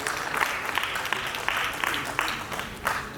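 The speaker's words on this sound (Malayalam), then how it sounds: "നല്ലൊരു കൈയടിയോടെ ബേസിലിനെ നമുക്ക് ഈ വേദിയിലേക്ക് സ്വാഗതം ചെയ്യാം" Audience applause at a stage celebration honoring a film's Oscar entry, welcoming an Indian cricketer onstage: a steady wash of clapping from a crowd, moderately loud and continuous, with a few louder bursts and no clear talk.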